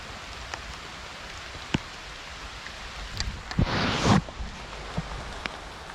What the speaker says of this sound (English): Well, the rain came.